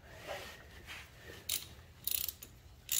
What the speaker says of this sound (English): take an 18 millimeter socket underneath the foot shift